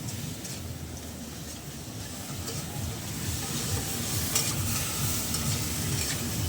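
Food sizzles and fries steadily in a pan while someone stirs it, a dense continuous hiss with scraping, cooked at a long-running local shop's stall, slowly growing a little louder.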